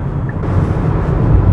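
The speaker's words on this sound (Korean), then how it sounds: "엔진 소리와 바람 소리가 같이 섞여서 제법 큰 소리를 만들어내고 있습니다." Hyundai Kona Hybrid accelerating at speed, a steady, fairly loud blend of rough engine drone and rushing wind noise heard from inside the cabin, continuous throughout with no talk.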